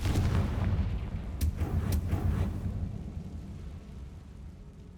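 Hogwarts Legacy's Confringo fire spell bursts in a deep, rumbling explosion, with sharp cracks near the start and a long boom that rolls off and fades.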